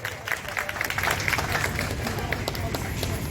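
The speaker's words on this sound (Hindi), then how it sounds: "एक बार जोरदार तालियां आप सभी लोगों के हाथों से हो जाए।" Applause and clapping from the audience at a kavi sammelan poetry gathering during a cultural festival, a dense, sustained crowd clapping that stays steady and fairly loud throughout, with talk mixed in.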